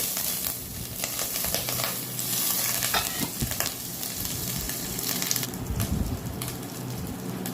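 Tandoori chicken pieces sizzle in butter in a hot pan, a steady, close frying hiss with crackles and occasional stirring or shifting noises, no voices.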